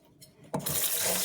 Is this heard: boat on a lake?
no